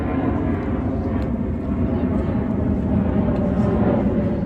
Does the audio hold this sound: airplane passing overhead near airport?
yes